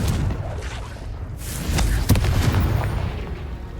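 A Confringo fire-blast spell bursts in Hogwarts Legacy combat, a loud low boom swelling out of rumbling battle noise around the two-second mark and then fading into a dull roar.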